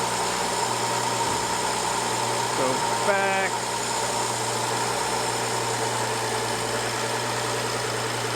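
BMW Gen 3 Valvetronic engine idling, a steady low hum with constant drone and a brief tonal chirp, a short spoken phrase heard over it.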